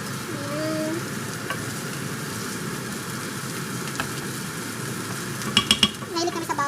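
Garlic added to translucent onions frying in a pan for a Filipino tuna dish, a close continuous sizzle with stirring and a few clinks of a utensil against the pan near the end.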